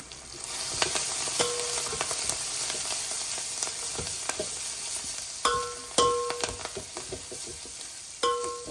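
Carrots with turmeric fry in a pan with a steady, close sizzle, broken by a few sharp clinks and scrapes of stirring toward the end.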